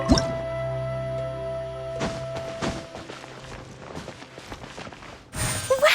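Water droplets dripping from a wall in a video game: a series of crisp, separate drips and wet plops in an otherwise quiet space, with a louder splash near the end.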